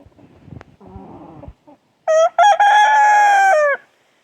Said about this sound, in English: That's Mavericks, my grandson's rooster